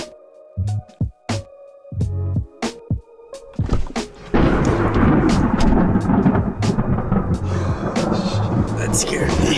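Thunder from a lightning strike near Sedona rolls in as a long, loud rumble, building sharply and continuing steadily, after people's clipped speech in a car.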